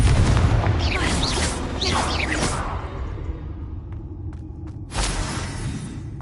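A Confringo blasting spell explodes in Hogwarts Legacy on PS5 with a loud, booming, whooshing burst and rumble that fades, followed by a second short burst near the end.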